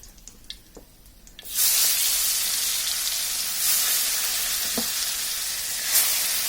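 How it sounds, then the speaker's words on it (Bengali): Koi fish dropped into hot oil set off an abrupt, loud sizzle after a quiet moment, settling into a continuous close frying hiss with a few faint clinks and small surges. "এখন আমরা এগুলোকেও ভালোভাবে ভেজে নেব"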